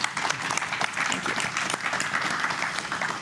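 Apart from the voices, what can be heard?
audience applause for the panelists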